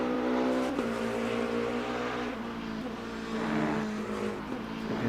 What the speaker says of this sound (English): these hypercars all sound kind of the same